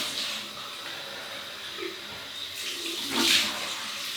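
Cold tap water runs into a sink during a wet shave, giving a steady close hiss and splash that swells briefly near the end.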